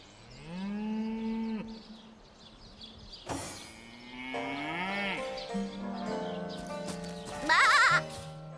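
Sheep in the Divinity Original Sin video game bleat several times in a row, loud and close, with a few more animal calls and game sounds mixed among the cries.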